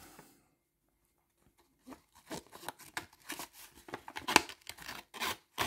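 After a short quiet pause, close Victorinox scissors cut paper in rapid crisp snips that build into a steady busy rhythm.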